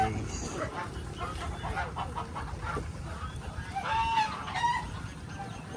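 A hen being caught on a farm field clucks and then lets out a startled squawking flurry near the end, with people talking quietly nearby.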